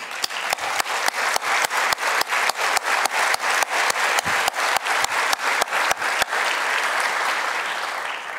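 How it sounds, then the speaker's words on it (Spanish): Audience in a formal state congress session applauding, a dense sustained wash of clapping with a steady rhythmic beat of synchronized claps running through it before fading to loose applause. "Un fuerte aplauso para ella."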